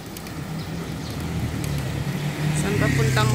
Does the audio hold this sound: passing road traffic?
yes